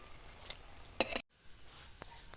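Okra chops frying in hot oil give a light, close sizzle, broken by two or three sharp clinks and scraping bursts as a piece is flipped, then a brief gap before quieter frying resumes.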